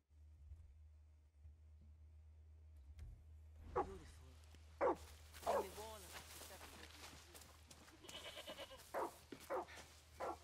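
Several goat bleats from the video game Far Cry 6 ring out in quick succession over a steady low hum, with a rapid stuttering run of short calls near the end.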